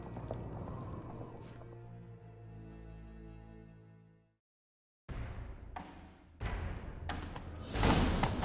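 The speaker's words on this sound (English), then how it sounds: "Grab a horse, we'll chase him down." Hooves clatter in a rapid galloping rhythm with a horse's whinny, then a pause and renewed thudding hoofbeats with whooshes, from the game The Witcher 3: Wild Hunt.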